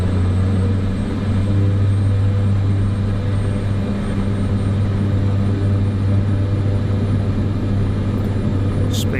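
Steady, loud propeller aircraft engine drone from Microsoft Flight Simulator 2024, holding a constant broadband roar as power rises for takeoff, with no voices over it.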